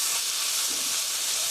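Meat stir-frying in a pan with sliced welsh onion, leek and carrot, giving a steady, even sizzling hiss that stays constant from start to finish with no voices.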